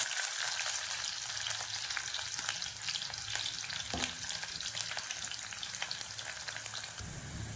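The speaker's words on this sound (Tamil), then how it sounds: "இந்த வெந்தயம் பொரிஞ்சதும் கொஞ்சம் வெங்காயம் போட்டுக்கிறேன்" Onions frying in hot oil in a clay pot, with fenugreek seeds already fried, giving a steady soft sizzle with faint crackles and stirring scrapes throughout, fairly quiet and close.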